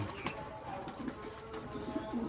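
Pigeons cooing softly in low, rolling calls, with faint scattered taps and background noise around them.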